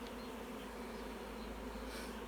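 Honeybees at an apiary hum in a steady, dense drone while a summer swarm is being caught, a continuous faint buzz with no talk.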